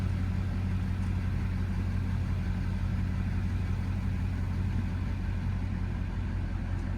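A car driving down a road in the Canadian Rockies, heard from inside as a steady low engine and road rumble that stays constant throughout.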